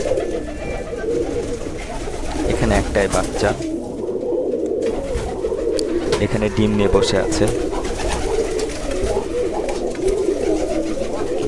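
Jalali pigeons coo steadily close by in a pigeon loft while someone talks over them.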